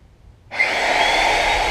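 A magnetic drill bores holes in the frame of a Ford F750 haul truck, starting abruptly after a brief quiet moment and then running as a loud, steady, close grinding whir.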